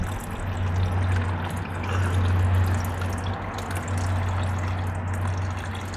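Coolant drains out of a car's cooling system in a steady, continuous splashing trickle with a low underlying hum, close by and unbroken throughout.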